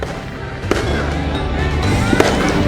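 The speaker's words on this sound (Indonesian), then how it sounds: "warga Cali di Kolombia meluncurkan kembang api dan membakar boneka-boneka diiringi musik dan sorak-sorai di jalanan" Fireworks go off at a New Year's Eve street celebration in Cali, Colombia: a dense, continuous crackle and rumble, with two sharper pops near the start and near the end, loud and close.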